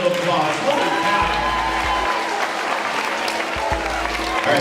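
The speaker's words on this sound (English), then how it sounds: "Give her a big round of applause." A school assembly audience applauds a guest, a continuous loud wash of clapping and crowd noise with voices mixed in throughout.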